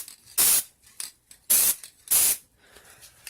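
Three short bursts of NeverWet top coat sprayed from an aerosol can, each a loud close hiss lasting about a quarter second, separated by quiet gaps with no talking.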